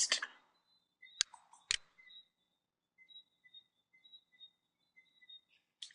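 A few sharp, isolated computer mouse clicks in a quiet room during software setup, faint overall, with thin high tones between them.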